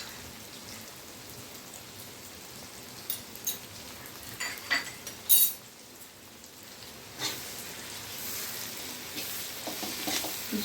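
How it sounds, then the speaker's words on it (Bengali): Coriander powder stirred into onions frying in oil in a pan, with a soft continuous sizzle and scattered scraping spoon strokes that grow busier midway, then a steadier hiss. "মিশিয়ে দিচ্ছি ভালো করে।"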